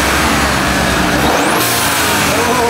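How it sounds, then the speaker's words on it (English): A lifted GMC truck fitted with a bigger turbo and blow-off valve revs hard, a loud, close engine roar with a rising turbo whistle partway through. "you know I put a bigger turbo and blow valve on this thing, right?"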